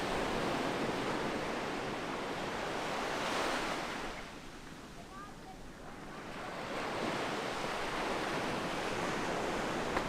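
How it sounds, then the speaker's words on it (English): Shorebreak waves at Clifton beach in Cape Town during a lifesaving sport race: loud surf washing in, easing to a quieter lull midway, then building again as the next wave breaks and rushes up the sand. "Nice little shorebreak wave"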